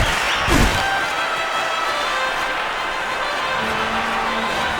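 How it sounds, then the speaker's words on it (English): Hockey arena crowd in the PS2 video game NHL 08 cheering and applauding, a steady broad roar held for the whole stretch with a brief louder swell near the start, no voices on top. "The crowd gets excited every time he touches the puck."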